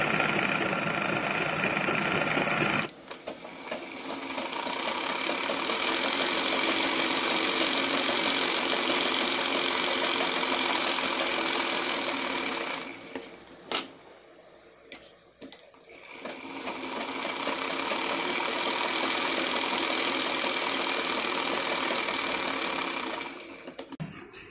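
Sewing machine stitching lining onto the sleeves of a little girl's frock, running in long steady bursts with a brief pause midway, close and fairly loud with no talk.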